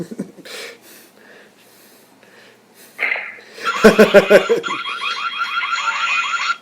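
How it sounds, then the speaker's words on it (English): A few brief sounds open the clip, then a loud electronic alarm-like melody of rapid warbling, repeating tones plays on, alone. "The friggin' car alarm theme."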